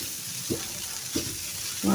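Salted, boiled chicken sautés in butter in a pan with a steady, close sizzle, broken by a few soft scraping stirs and a louder hiss at the end.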